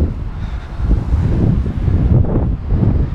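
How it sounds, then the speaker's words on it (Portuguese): Strong wind buffets the microphone outdoors near Shiozaki station, a loud, rumbling low roar that swells and eases unevenly throughout. "Eita ventão, hein?"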